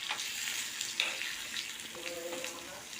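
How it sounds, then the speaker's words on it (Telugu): Peanuts, cumin, green chillies and dal frying in oil in a bowl give a steady, close sizzle with a few soft stirring clicks, no voices over it. "ఒక బౌల్ తీసుకుని కొంచెం ఆయిల్, కొంచెం జీలకర్ర, కొంచెం పచ్చిమిర్చి, పల్లీలు, డాల్పప్పు వేపుకోవాలి."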